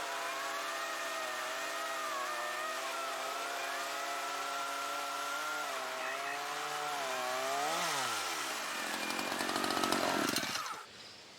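16-inch Wild Badger 40-volt cordless chainsaw cutting through wood, a loud close whine that dips in pitch as the chain bites, then rises and cuts off at the end.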